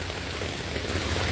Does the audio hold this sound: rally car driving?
no